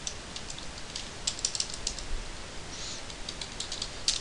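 Computer keyboard typing while entering a command in Maya's MEL command window, heard as short bursts of quiet clicking keystrokes up close, with brief pauses and no talk.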